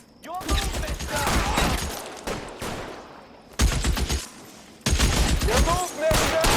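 Gunfire in the video game L.A. Noire, repeated loud volleys of shots crackling over one another in bursts, with shouting voices mixed in.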